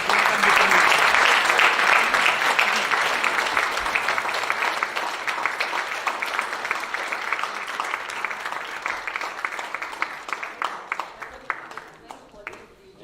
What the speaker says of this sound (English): And ladies and gentlemen, big applause.